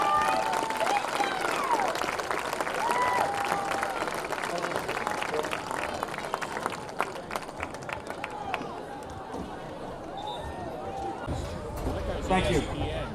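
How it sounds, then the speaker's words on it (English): A crowd in a school gym at a high school basketball game applauds and cheers for the seniors, continuous loud clapping with squeaking sneakers and voices mixed in, tapering off near the end. "Let's have a big round of applause for all of our seniors tonight."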